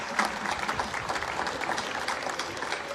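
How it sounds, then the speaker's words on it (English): A large audience at a joint graduation ceremony claps steadily in sustained applause, dense and even throughout with no talk over it. "ask for a round of applause for both of the divisions"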